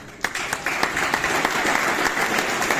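A Kavi Sammelan audience at IIT Kanpur breaks into steady applause after a recitation, a dense wash of many hands clapping close and loud, with no talk over it.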